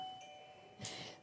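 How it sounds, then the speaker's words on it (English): A doorbell rings with a faint ding-dong chime that sounds distant and quiet over a low, steady background hum, with no talking. "Listen for the doorbell. Ding dong."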